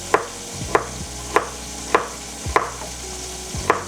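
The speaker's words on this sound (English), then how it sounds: "Cut these garlic, cut this up." A knife chops garlic on a cutting board for a simple family chicken-and-rice dinner, six crisp, evenly spaced strikes about half a second apart, close and distinct over a quiet background.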